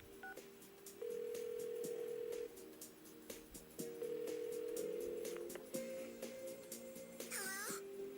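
In the video game Persona 4, a phone dials a home line with a quick run of electronic keypad tones, some short and some held, ending in a brief higher chirp, quiet but clear.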